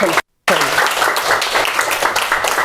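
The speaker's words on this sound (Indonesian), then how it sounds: "Ya, tepuk tangan." Students applauding in a classroom, a dense continuous patter of many hands clapping at close range after a brief dropout, with some voices mixed in.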